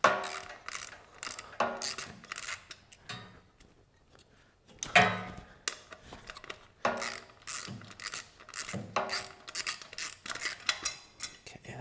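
Ratchet with a small extension loosening bolts on a Champion generator, rapid close clicking bursts repeated in rhythmic runs with short pauses.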